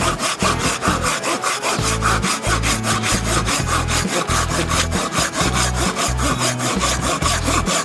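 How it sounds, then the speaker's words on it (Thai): Rapid, rhythmic strokes of a Silky GomBoy Japanese folding hand saw with a 210 mm blade chew through dry wood, close up and loud, continuing without a break. "อันนี้เป็นไม้แห้ง ถ้าเกิดเป็นไม้สดเนี่ย จะเลื่อยได้ดีกว่านี้และก็เร็วกว่าน"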